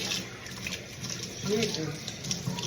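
Tap water runs steadily into a sink while salmon is washed, a soft continuous splashing close by with brief voice underneath.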